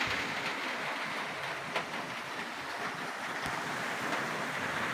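Typhoon wind and heavy rain heard from indoors by a window, a dense continuous roar and hiss filling the whole clip, with a couple of faint knocks and no speech.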